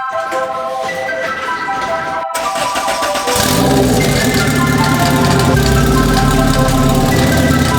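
A Honda Civic EG with a turbocharged B18C engine starts up and settles into a warm-up idle; bright tonal chimes come first, then the engine catches into a loud, close, steady low rumble that keeps running.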